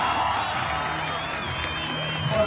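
A crowd at a BMX flatland World Cup contest in Montpellier keeps up a steady wash of cheering and applause, close and loud throughout, with a commentator's voice over it.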